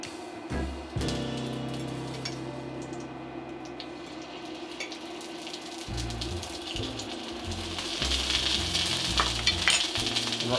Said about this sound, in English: we're gonna baste and lightly sear the heart of palm